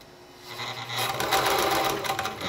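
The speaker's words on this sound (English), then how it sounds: "when you start to run the machine, it'll start winding the" A White model 1418 sewing machine winds its bobbin with a steady mechanical whir that starts up and then holds a fast, even hum, close by and fairly loud, with no talking.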